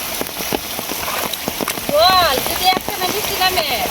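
Heavy rain patters steadily on surfaces nearby, while people talk and a voice rises in a brief tonal call over the downpour.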